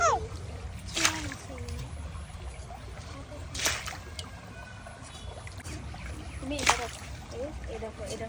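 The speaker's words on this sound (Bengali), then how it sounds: "তুমি দেখো খালামনি কেমনে পানি তুলে" Water is drawn from a household well in a few separate splashing pulls, each a brief slosh and pour, heard faintly with a low background hum.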